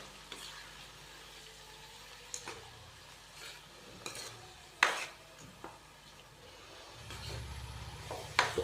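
Chicken pieces frying in a pan for a masala chicken fry give a steady low sizzle, broken by occasional scrapes and clinks of a spoon stirring against the metal.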